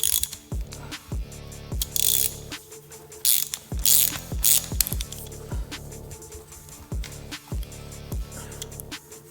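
A ratchet wrench removing a part from a Harley-Davidson Softail, with repeated close, crisp ratchet clicks in short bursts and a few sharp metallic clanks between strokes, no talking.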